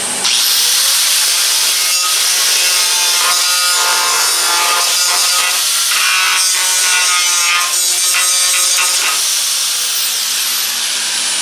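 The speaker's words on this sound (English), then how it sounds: "So I use a cut-off wheel, get the biggest part of it off of there." An abrasive cut-off wheel bites into the sheet metal of a 1958 car body, a loud continuous high-pitched shriek and hiss that holds steady for several seconds before spinning down near the end.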